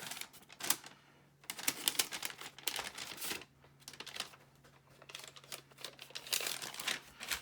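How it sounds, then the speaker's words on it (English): A glassine bag is folded flat by hand, its gussets pushed out and creased, giving crisp papery crinkles and rustles in bursts across the clip, close and fairly quiet. "So I'm going to push those gussets out like this and then fold them on that fold."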